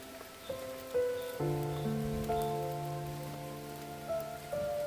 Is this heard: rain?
yes